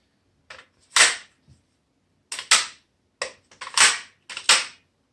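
Rifle magazines drop free of the rifle one after another, each landing as a sharp, close clack, about five distinct impacts spaced across a quiet background.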